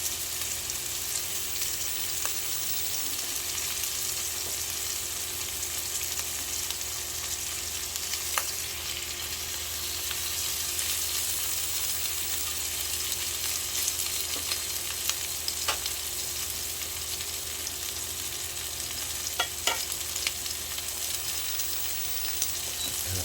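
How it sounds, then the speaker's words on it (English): Steak, shrimp and other seafood sear together in a single hot pan, giving a steady, dense sizzle and crackle that runs unbroken from start to finish with faint occasional pops and no voices. "The steak is seared."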